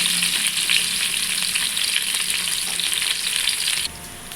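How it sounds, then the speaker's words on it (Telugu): Chopped onions frying in hot oil with mustard seeds, cumin and fenugreek, a close, steady hiss and crackle of sizzling with occasional stirring, softening slightly near the end. "పోపు వేగిన తర్వాత కట్ చేసుకున్న ఆనియన్స్ వేసుకోండి."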